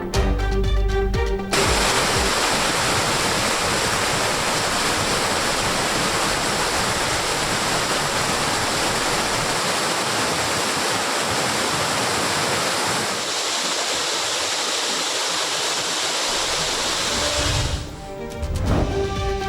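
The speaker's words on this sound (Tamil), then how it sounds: "பெரியார் நீர்வீழ்ச்சியில் தண்ணீர் ஆர்ப்பரித்து கொட்டுகிறது" Periyar waterfall in the Kalvarayan hills gushing after heavy rain, a loud, steady roar of rushing water filling the whole clip without letup, briefly broken by a short cut near the start and another near the end.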